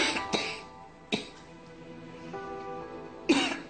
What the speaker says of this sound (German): Haben Sie den Husten schon länger?